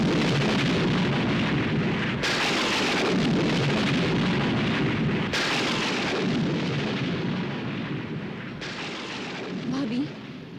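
Rumbling thunder rolls through a storm in bursts over steady rain, broad and continuous, with rises and falls in intensity and no talking.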